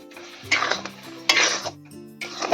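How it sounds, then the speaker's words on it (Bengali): Chhena is stirred continuously in a pan to dry off its water, with bursts of metal spoon scraping and clinking against the pan coming in close, moderately loud waves. "ভালো করে অনবরত কিন্তু নাড়তে হবে।"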